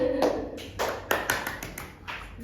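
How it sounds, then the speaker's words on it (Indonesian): A school class clapping hands in a classroom, a short burst of scattered claps and taps that trails off after a couple of seconds, heard from nearby. "Beri tepuk tangan"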